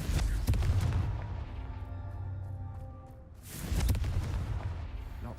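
In Hogwarts Legacy, Confringo blasting spells go off as two heavy booming explosions with a quieter resonant stretch between them, deep and close.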